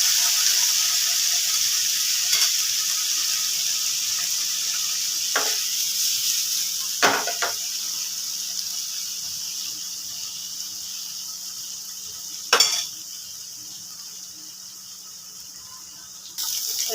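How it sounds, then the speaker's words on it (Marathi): Paneer frying in a little oil in a pan gives a steady, close sizzle that runs throughout, broken by a few sharp clicks and scrapes. "त्याच पॅनमध्ये पनीर थोडंसं तेलावरती फ्राय करून घ्यायचे."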